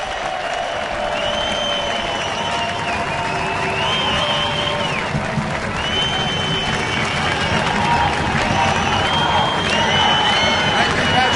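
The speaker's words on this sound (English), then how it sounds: "Let us give a great round of applause to Mayor Rudy Giuliani." Crowd at a large outdoor rally in New York applauding and cheering for former mayor Rudy Giuliani, a dense steady wash of clapping with whistles and shouts throughout.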